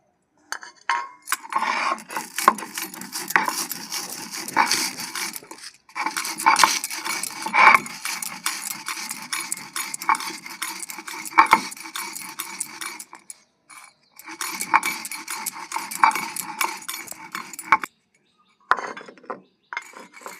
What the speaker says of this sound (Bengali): ভাজা মশলাগুলো আমি বেটে নিচ্ছি